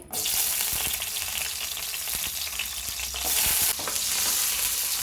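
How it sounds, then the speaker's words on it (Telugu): Green chillies fry in hot oil in a home kitchen, giving a loud, steady sizzle and crackle with occasional stirring clatter, heard alone and close throughout. "ఆయిల్ వేడికింది కదండి పచ్చిమిర్చి వేసుకోవాలి"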